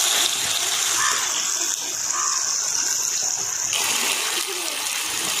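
Water used to rinse marinated chicken is poured into a cooking pan, giving a loud, steady gushing and splashing that lasts the whole time, heard up close.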